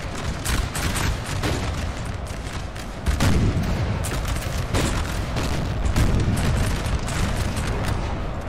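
Artillery and musket fire in Napoleon: Total War, a sustained battle din of repeated cracking volleys and heavy booms that rise and fall over several seconds.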